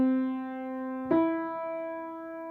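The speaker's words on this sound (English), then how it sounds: "if I were to play a melodic third, it would sound like this" Keyboard sounding a melodic third: one sustained note followed by a second, higher note struck on its own, both clean and close, ringing alone.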